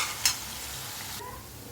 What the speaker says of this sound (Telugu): ఒకసారి ఇవన్నీ బాగా ఫ్రై అయిపోవాలండి